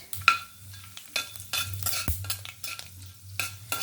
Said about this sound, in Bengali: তেলটা এখানে সুন্দরভাবে গরম হয়ে গেছে আমি প্রথমে দিয়ে দেবো ফোড়নে গোটা জিরে একটা তেজপাতা তার সঙ্গে এখানে দিয়ে দেবো গোটা গরম মশলা দারচিনি আর ছোটো এলাচ আর গোটা গোলমরিচ